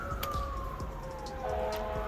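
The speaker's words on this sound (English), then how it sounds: "We have sirens." A distant siren wails in a slow falling tone, steady and moderately faint over low traffic rumble.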